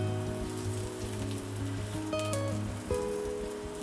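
Coriander fritters pan-fry in oil over a low gas flame with a steady, soft crackling sizzle close by, and a faint tonal hum lies underneath.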